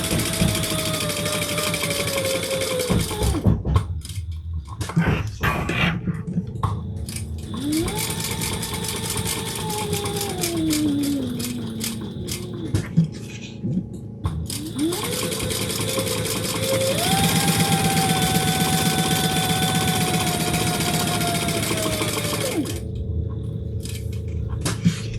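A sewing machine stitches a fabric bag, its motor humming steadily with rising and falling pitch as it runs. The run stops briefly several times, with no talk.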